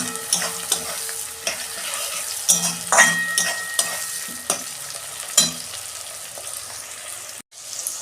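Tomatoes dropped into hot oil after onions were fried, sizzling steadily in a pan, with a spoon stirring and scraping against the metal in repeated clanks and scrapes over a continuous frying hiss.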